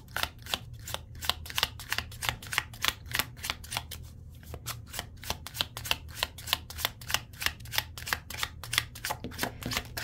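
Tarot cards being shuffled by hand, a quick regular run of crisp riffling snaps repeating through the whole stretch with one short pause, close and clear, no talking.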